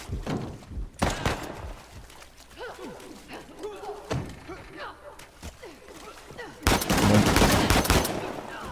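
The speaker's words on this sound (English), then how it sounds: "Our first gunfight. And I'm over here getting lit up." A gunfight in Uncharted: The Lost Legacy, played on Crushing difficulty: scattered gunshots and thuds hit nearby, building to a dense, loud volley of gunfire near the end, with game sounds between bursts.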